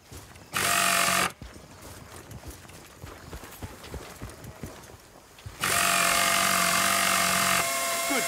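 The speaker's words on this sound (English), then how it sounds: "That's the power tool you've got there. Hold on to it. You can use it to fix any broken vehicles." In a Battlefield Bad Company game, a handheld power tool repairs a broken vehicle with two loud buzzing, grinding bursts, one short and one longer, separated by a quieter stretch of clattering mechanical noise.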